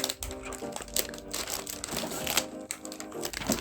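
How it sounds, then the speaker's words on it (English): Plastic wrapping crinkles and tears as an ASUS ROG Strix gaming laptop (RTX 3060, Ryzen 9 5900HX) is unboxed, giving close, continuous rustling with sharper crackling bursts throughout. "let me unwrap it so that you can see"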